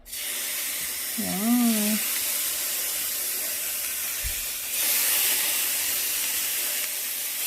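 Shrimp for garlic honey shrimp hits a hot pan and sizzles with a steady, loud hiss that brightens partway through. A voice speaks briefly over the frying.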